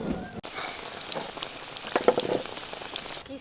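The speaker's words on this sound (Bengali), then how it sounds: "এই দেখুন কি সুন্দর ভাজা হচ্ছে, একটাও কিন্তু ফেটে যাচ্ছে না।" Potato-stuffed semolina snacks deep-frying slowly in a small amount of hot oil outdoors: a steady, crackling sizzle with dense, rain-like spatter, close and fairly quiet, with no voices.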